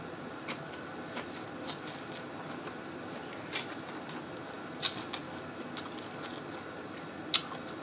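Crisp crunching bites of food, irregular sharp crackles over a quiet background, close to the mic with no talking.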